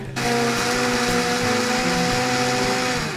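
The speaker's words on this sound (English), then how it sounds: "Then I blended it" A blender spins up and runs steadily as it purées a dozen eggs with scallions, Dijon mustard, salt and pepper. It gives a loud, close whirring motor drone with a pitched hum and no voices.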